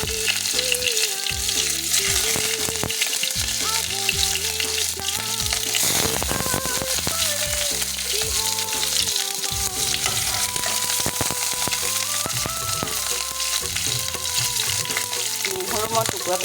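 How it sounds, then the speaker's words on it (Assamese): Chopped onions dropped into hot oil fry with a loud, busy sizzle and crackle from start to end, mixed with music and scattered clatter of stirring. "তেলত মই এতিয়া এই কাটি থোৱা পিঁয়াজখিনি দি দিছোঁ।"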